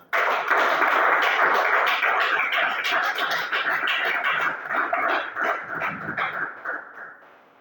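Church congregation clapping together in a dense, sustained burst of applause that carries on for several seconds before tapering away.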